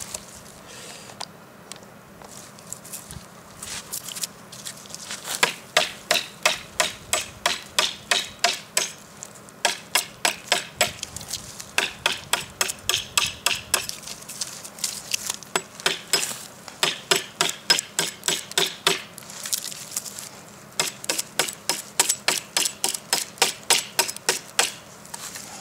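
A Cold Steel knife, the Leatherneck SF, chopping wood to make a baton, a long run of sharp, evenly spaced knocks at a steady rhythm, close and fairly loud, with no talking.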